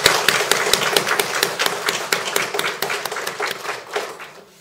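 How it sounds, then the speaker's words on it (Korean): A congregation at a Korean Won Buddhist temple service gives a steady round of applause, dense overlapping claps filling the space for several seconds before tapering slightly, with no talking over it. "저희들이 함께 기도하면서 응원의 박수 한번 보내주시면 감사하겠습니다"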